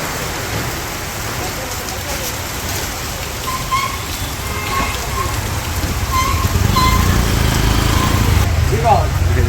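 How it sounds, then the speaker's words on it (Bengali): Heavy rain pours down during a village storm, a dense steady hiss that swells louder toward the end, with faint intermittent tones and a low rumble beneath. "বৃষ্টি নামছে একেবারে"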